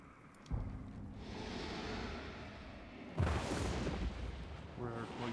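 Distant gunshots in the video game Hunt: Showdown give two heavy booming reports, each followed by a long rumbling tail, over a low ambient game backdrop.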